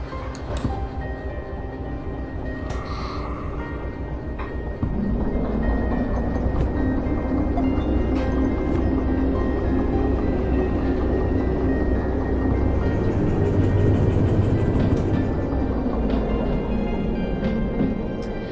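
In Derail Valley at night, a locomotive shoves railcars along with a steady low engine drone that swells after about five seconds, metallic creaks and clanks scattered over the rumble, with no talk.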